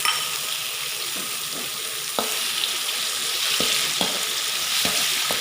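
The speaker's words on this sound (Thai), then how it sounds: "ผัดให้มีกลิ่นหอมก่อนครับผม นะครับผัดไปเรื่อยๆครับ" Garlic and pork stir-frying in hot oil for Thai pad kaprao, a steady close sizzle with several sharp scrapes of a spatula against the pan, no voices.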